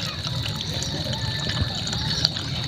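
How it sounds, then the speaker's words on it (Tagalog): Steady water trickles and hisses nearby, a continuous leaking flow with faint splashes throughout. "Yan yung tubig, tumatagas."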